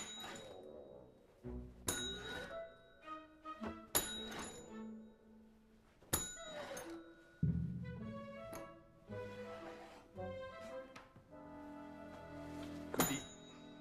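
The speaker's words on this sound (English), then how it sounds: "You don't need to ring that bell." A bell rung repeatedly in a period comedy-drama scene sounds as a series of bright metallic dings and clangs at irregular intervals, each ringing out and fading, fairly close with no talk over it.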